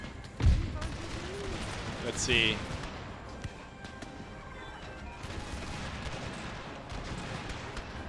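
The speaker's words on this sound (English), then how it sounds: "Order the cannons to aid in this fighting as well." In the Empire Total War video game, cannon and musket fire bursts out during a battle: a sharp nearby blast, then scattered crackling shots and booms over a busy background while a player speaks briefly.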